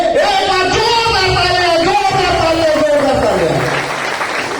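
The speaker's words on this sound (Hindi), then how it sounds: "तालियां" A crowd applauds at a stage event honoring a garlanded leader, with steady broadband clapping running beneath a loud amplified voice throughout.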